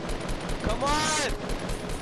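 Pistol gunfire in the video game Fortnite: a sharp burst of shots with a ringing metallic tail, heard close against steady background game noise.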